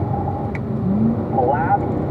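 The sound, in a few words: blue 110 car passing by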